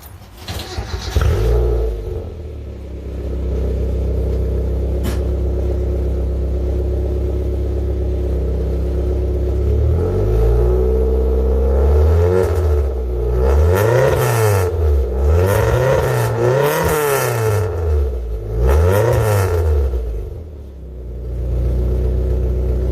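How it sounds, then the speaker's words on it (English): A car fitted with a bosozoku-style exhaust with takeyari blast pipes rumbles loudly at idle and then revs repeatedly in several rising and falling surges, close up, with no talk. "Here's what my car sounds like with the exhaust right now."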